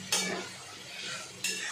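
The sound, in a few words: stir-frying goat liver with onions in a pan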